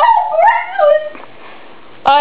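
A dog close by lets out high, whining whimpers and yips in two short bursts, then a sharp yelp after a brief pause.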